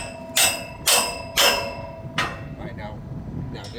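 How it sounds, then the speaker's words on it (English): Hammer taps a pin in, four sharp metallic strikes at a steady rhythm, close and loud, the last one softer, with faint room noise after. "now here's your hammer to tap it in"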